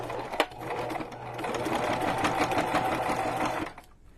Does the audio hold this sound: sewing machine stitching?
yes